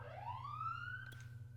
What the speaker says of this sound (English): What the fuck is that siren about?